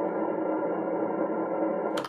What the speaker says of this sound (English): that sound you hear is what is known as room tone